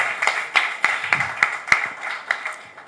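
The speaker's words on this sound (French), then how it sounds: "Sous vos applaudissements, s'il vous plaît." Hand claps in a steady, even rhythm at the close of a French television talk show, a few distinct sharp claps repeating about three times a second at moderate distance, with no voices over them.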